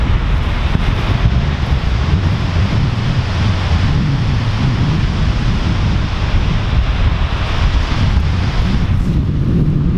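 Skógafoss waterfall in Iceland roars as a steady, loud, broadband rush, overlaid with heavy wind buffeting the microphone, continuous and unbroken with no talking.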